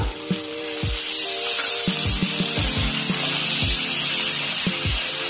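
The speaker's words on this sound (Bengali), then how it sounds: "ফ্লেমটা এবার মিডিয়ামে রেখে আমি মশলাগুলো একসাথে ভালো করে ফ্রাই করে নেব" Spice paste with salt, turmeric and a splash of water frying over medium flame in a pan for a mustard fish curry (bhola macher jhal), a steady loud sizzle broken by repeated sharp clinks of a spoon against the pan.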